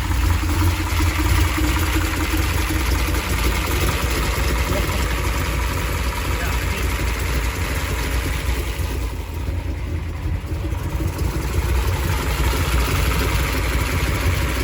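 A 1967 Shelby Cobra 427 idles loud and steady at close range, a thick low rumble running unbroken with the lifters ticking, the note holding through the whole stretch.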